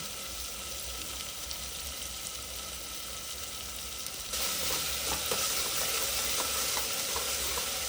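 Egg curry with spices and star anise being stirred in a hot pan, a steady sizzle and frying hiss with soft scraping that grows louder and brighter midway, with no talking over it.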